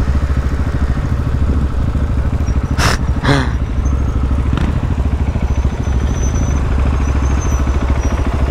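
A KTM SMC R supermoto motorcycle engine runs loud and close with a steady, throbbing drone, broken by a couple of brief clattering knocks partway through.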